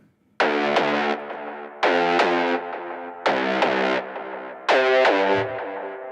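Reggaeton bass part built in Studio One: four sustained, distorted synth bass notes with rich harmonics, each starting with a sharp attack and held for about a second, separated by brief gaps, loud and alone with no talk.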